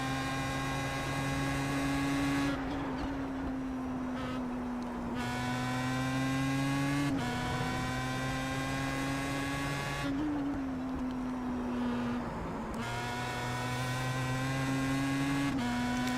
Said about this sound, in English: It's important to get in the throttle early here as you go full throttle through this whole next section.